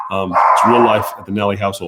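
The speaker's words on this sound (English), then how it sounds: "forgive the dogs barking in the background" Several dogs bark in short, loud bursts at home while someone talks over them.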